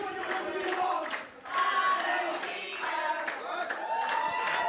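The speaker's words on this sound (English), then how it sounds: "The crowd getting behind Valentino" A wrestling crowd at the P.E.W. Lights Out show claps steadily behind Valentino, a dense, rhythmic wash of many hands with voices mixed in, dipping briefly before surging again.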